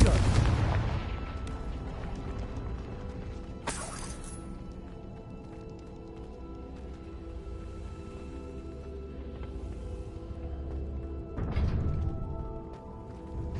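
Confringo fire spell blasts in the video game Hogwarts Legacy, with a heavy booming explosion at the start, a sharp crack midway and another blast near the end over a low, rumbling game backdrop.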